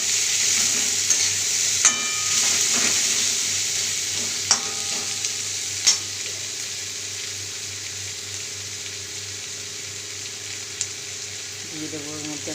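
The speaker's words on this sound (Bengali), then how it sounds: "তো পেঁয়াজটা ভাজতে দিলাম, এর মধ্যে দিয়ে দিলাম একটা তেজপাতা" Sliced onion frying in oil with a bay leaf, a steady broadband sizzle throughout with a few clanks of stirring utensils against the pan, no talking.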